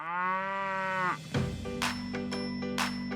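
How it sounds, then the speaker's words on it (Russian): Cows living in the Alps moo loudly and close by: one long drawn-out moo, then a sudden change to a lower, rougher call with bursts of noise and other cattle sounds, no talk. "Альпийские коровы дают молоко."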